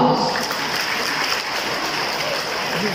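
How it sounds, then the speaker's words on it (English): Applause from a party crowd at a school acquaintance night in Siargao, a steady dense wash of clapping held for the full stretch at fairly loud level with some voices mixed in. "giving Him a round of applause"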